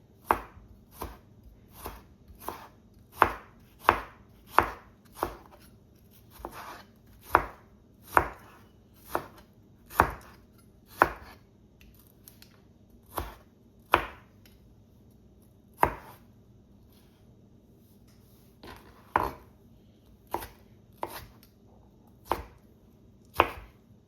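Knife chopping half a medium onion and half a tomato on a cutting board, a steady run of sharp, close, distinct strikes at an irregular but brisk pace, with no talking.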